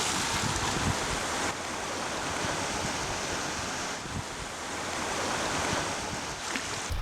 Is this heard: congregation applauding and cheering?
no